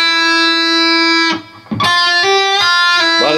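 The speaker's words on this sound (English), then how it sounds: "6B, hammer to 8, pull to 6, slide to 5, it'll sound like this." An electric guitar with distortion plays a sustained note, then a quick run of bends, hammer-ons, pull-offs and slides, loud and close, without any talk.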